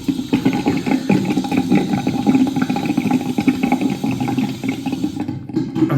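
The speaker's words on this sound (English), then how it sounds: "I'm gonna wipe this off partly, and then with cold water" Cold water runs steadily from a tap during a straight razor shave, a continuous broadband rush with no pauses, fairly loud and close, with no talking over it.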